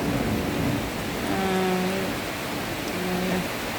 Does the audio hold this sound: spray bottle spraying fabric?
no